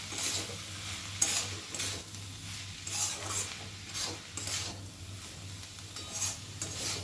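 Cabbage being stirred with a spoonful of sugar in a pan, a steady scraping and rubbing at close range over a faint ongoing sizzle, with repeated strokes roughly every half second to second and a constant low hum beneath.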